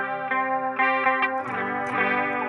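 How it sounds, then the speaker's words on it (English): An electric guitar through a chorus pedal plays a short run of shimmering, slightly warbling notes and chords, close and clear for a few seconds with no talking. "So this is the chorus."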